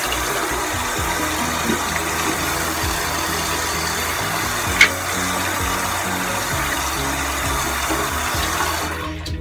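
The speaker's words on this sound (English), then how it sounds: "I like to wash my hands to get rid of all the dirt and gook from today" Running tap water splashing steadily into a sink while hands are washed with soap, loud and close, with a brief knock partway through and no talk.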